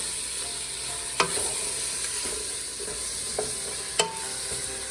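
Lamb browning in a pan for a Southern Indian curry gives a close, steady sizzle, with two sharp clinks of a utensil against the pan and a softer knock between them.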